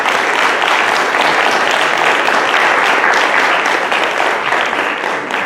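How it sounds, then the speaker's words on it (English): An audience applauds panelists at a civic participation event at CSU Monterey Bay, a dense and loud clapping that holds steady throughout, with no voices over it. "Let's go ahead and give our panelists another big round of applause."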